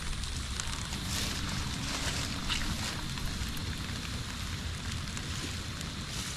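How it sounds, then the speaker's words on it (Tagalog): Rain falls steadily on an outdoor field where sugarcane leaves are being cut, a continuous even hiss with no breaks, faint and diffuse throughout. "Ulan na naman."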